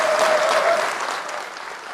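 Loud, dense applause fills the hall for Czech President Petr Pavel at a commemoration of the 1968 invasion, a steady roar of clapping that holds for the whole moment and eases slightly toward the end.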